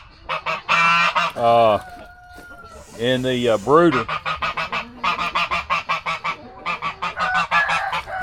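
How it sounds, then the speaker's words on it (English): A goose on a homestead farm honks repeatedly among clucking chickens, with loud nearby calls in irregular bursts and a person speaking briefly. "There's a goose."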